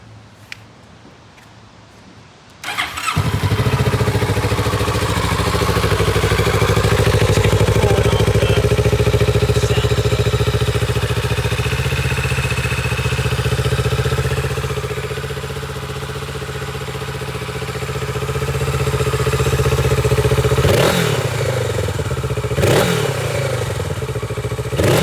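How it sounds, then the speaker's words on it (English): A Kawasaki Z650RS motorcycle with its stock exhaust fires up after a few seconds of quiet, settling into a loud, steady idle with a rumbling low tone, then blips the throttle twice near the end. "I'm going to start the bike up with the stock exhaust."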